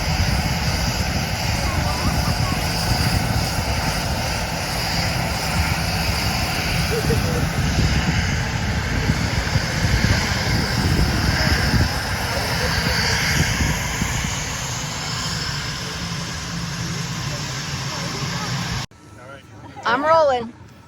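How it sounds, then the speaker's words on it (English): A fixed-wing airplane engine drones steadily and fairly loud for most of the span, a broad rumble that cuts off abruptly before a short burst of a voice at the end. "Did you like the airplane? You like the plane?"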